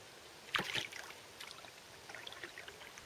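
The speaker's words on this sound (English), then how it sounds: "The canoe I'm paddling we made when I was only 5 years old." A paddle dips into water beside a canoe on a river, giving a few faint splashes and drips, the clearest stroke near the start, in an otherwise quiet outdoor setting.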